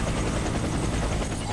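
A helicopter in the video game Warface beats with a dense, steady rotor roar, loud and close throughout with no pauses.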